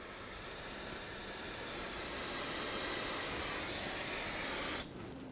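A steady, loud hiss of aerosol spray rinses a rear brake part on a 2009–2011 Ford F-150, running continuously for about five seconds before cutting off abruptly into quiet room tone.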